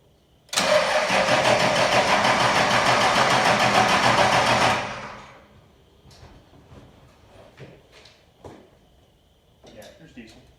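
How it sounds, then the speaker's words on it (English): A Cummins diesel engine fitted with a freshly installed P-pump cranks over loudly and steadily for about four seconds, then stops. Faint clicks, shuffling and small mechanical noises follow. "now I'm gonna crank it over and check for leaks"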